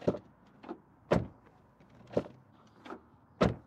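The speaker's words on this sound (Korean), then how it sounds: "문을 닫을 때 이 소리를 들어보세요." Tesla Model Y car doors shut with a run of sharp, close thuds, about six, each with a brief metallic edge and quiet pauses between. No voices are heard.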